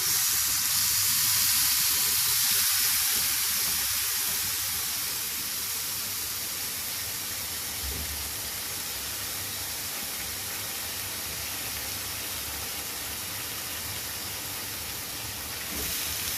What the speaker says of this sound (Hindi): ये चिकन को तमाम मैरिनेशन के साथ मैं फ्राइंग पैन में डालने लगी हूँ।